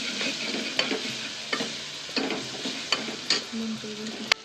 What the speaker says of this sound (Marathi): आपण एकदम गरम होऊ. त्याला छान असं परतून घेऊ.